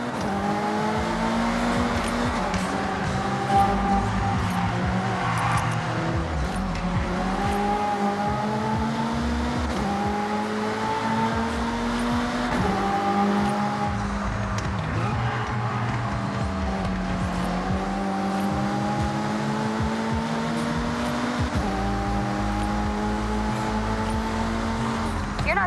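Race cars driving in the video game Forza Horizon 6, engines revving loudly and steadily through gear changes with rising and falling pitch sweeps, close and continuous for the whole stretch, no talking.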